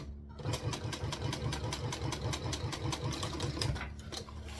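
A sewing machine stitches steadily at a fast, even rhythm, its close mechanical clatter running continuously for several seconds before stopping.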